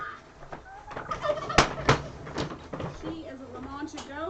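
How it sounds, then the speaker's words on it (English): Turkeys gobble on a small livestock farm. Their rapid warbling calls come and go amid sharp knocks and people talking nearby. "Just look at the turkeys. Wow, nice turkeys."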